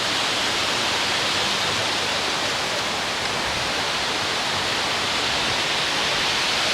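Water from the falls pours over a dam at Chewacla in Auburn, Alabama, a dense, unbroken roar that stays loud and even throughout.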